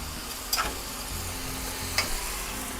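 Ground hamburger meat sizzles steadily as it browns in a pan, a faint continuous frying hiss broken by two brief scraping stirs.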